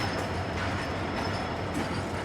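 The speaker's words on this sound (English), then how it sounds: "One could spend hours watching the diesels hauling both passenger and freight here and not tire of it." A diesel train runs on railway tracks in Jaipur, giving a loud, steady rumble with rhythmic wheel-and-rail noise passing close by.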